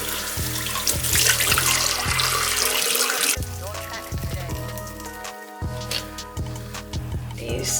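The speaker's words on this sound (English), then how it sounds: "So that's why I'm gonna wash these bad boys inside and out." Running water from a tap splashing over Nike Air Jordan 4 Military Blue 2012 sneakers being washed, a loud steady gush with shifting splashes and brief interruptions partway through.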